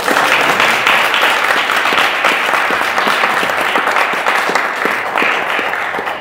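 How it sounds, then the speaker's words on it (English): Sustained applause from a large congregation at a Sunday service, steady dense clapping throughout with no voices over it. "give her a big round of applause"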